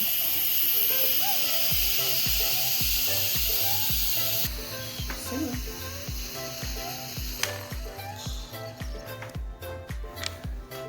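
An Instant Pot pressure cooker vents steam after cooking ribs: a loud, steady hiss that drops in level partway through, over a regular mechanical clicking rhythm.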